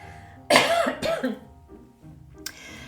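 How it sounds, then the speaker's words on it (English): Two harsh coughs in quick succession, followed by a softer third cough after a short pause, close to the microphone. "I'm going to cough, I'm afraid."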